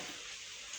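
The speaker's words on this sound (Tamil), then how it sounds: "வீடு ஒழுகுது, தண்ணி ஹாலில் ஊற்றுது" Water leaking and pouring into a house hall, a faint, steady hiss of running water that continues without a break.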